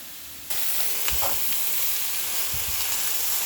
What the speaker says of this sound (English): So on these onions, I'll let my vegetable also fry.